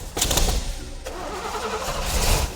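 A 396 big block V8 in a 1970 Camaro RS/SS runs with the timing off, popping and spitting back through the carburetor over a rough, loud engine; bursts of sharp cracks come near the start and again near the end.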